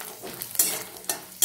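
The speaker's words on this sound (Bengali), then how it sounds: "ডিম আর বাদামটা ভেজে নেব।" Peanuts and egg fry in oil in a wok, with a soft sizzle broken by a few sharp scraping strokes of a spatula, close up and fairly quiet.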